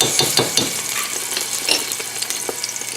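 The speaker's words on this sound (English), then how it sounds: "right now there's coconut oil in there, so I'm gonna drop some of the garlic" Garlic sizzling in hot coconut oil in a pan on medium-high heat, a steady close crackle with small popping bursts and faint stirring, no talk.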